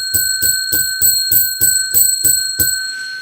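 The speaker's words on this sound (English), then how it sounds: "I'm going to ring the bell 10 times." A bright metal bell is struck ten times in a steady, evenly spaced rhythm, each ring loud and close with a short ringing tail, alone without talk.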